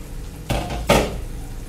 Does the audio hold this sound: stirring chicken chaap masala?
yes